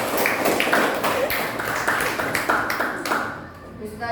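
Children in a classroom clapping their hands in quick rhythmic bursts, close and fairly loud, with a voice heard over the clapping.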